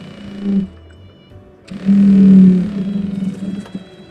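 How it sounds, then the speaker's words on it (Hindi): A sewing machine stitches the crotch seam of a palazzo, running in two bursts, a short one and then a longer, steadier run with a low motor hum, close and fairly loud with no talk. "8 इंच पे आपको मार्किंग करके सिलाई करनी है"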